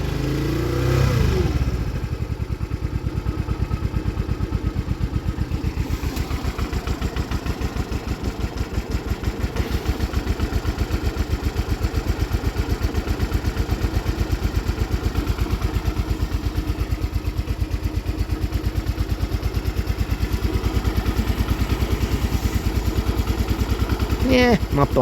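Honda CD 175 motorcycle engine from a barn-find restoration idling steadily for the whole stretch, a loud, close, even mechanical beat with some clatter, with people speaking briefly over it.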